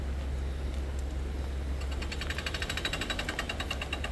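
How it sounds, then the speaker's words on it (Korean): Construction machinery working somewhere ahead on a coastal hiking trail near Songjeong, Haeundae, heard as a rapid mechanical rattling and pulsing clatter that swells in after a low steady rumble, moderately distant and continuous with no talk. "저 앞에서 무슨 공사를 하는 것 같습니다."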